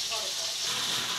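Fish frying in hot oil, cooked with garlic, green chilli, ginger and onion, gives a steady close hiss and sizzle that fills the whole moment without pause.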